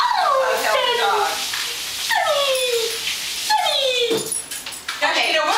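A dog whimpers and yips in a series of high, drawn-out whines close by, repeating every second or so, with people talking over it.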